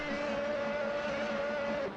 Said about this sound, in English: Lights are up, engines revving.